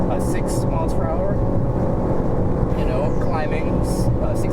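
A Nissan Versa Note with a CVT revs steadily at high engine speed while climbing, with continuous loud drone and road and wind noise throughout, and a brief rising whine near the end.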